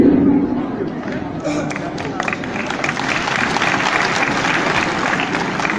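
A crowd applauds steadily, a dense wash of clapping that builds and holds for several seconds.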